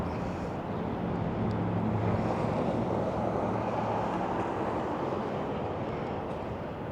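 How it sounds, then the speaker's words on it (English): Chilly wind blows along a spring city street downtown, a continuous broadband rush buffeting the microphone for the whole stretch, loud and steady with no voices. "Ooh, got a little bit of a chilly wind here."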